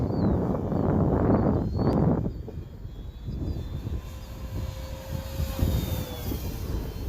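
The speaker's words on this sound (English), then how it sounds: "You need to stay in the throttle, Gary." An FMS P-47 Razorback Bonnie radio-controlled model warplane, 1500mm wingspan, flies over a grass strip on a windy day; its steady engine drone passes by, louder early then softer, with wind noise and no talking.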